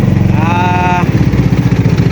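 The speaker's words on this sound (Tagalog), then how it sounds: "At nakamandar yung ating bangka, sana dire-diretso na hanggang pag-uwi." A motor boat engine gives a steady, loud drone with a throbbing low rhythm, close by, at sea off Nasugbu, Batangas, with a brief rising tonal whine partway through.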